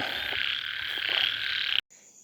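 A dense chorus of frogs croaks and trills steadily at night in a rural frog-hunting area in Isan, Thailand, loud and continuous before cutting off abruptly near the end.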